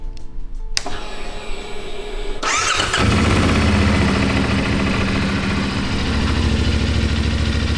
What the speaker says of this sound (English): We're gonna let it idle for a couple minutes